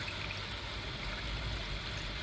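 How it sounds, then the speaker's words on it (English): Pond water flows steadily through the outlet of a filter tub in a koi pond setup, a continuous soft trickling and gurgling wash, fairly quiet and even, with no voices. "water's flowing through into it quite easily"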